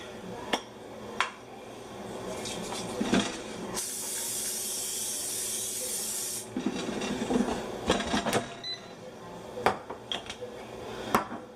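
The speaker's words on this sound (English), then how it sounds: "Okay, let spray this other side." A continuous hiss of cooking oil spray onto pork chops for an air fryer for a few seconds, surrounded by light clinks and taps of cookware.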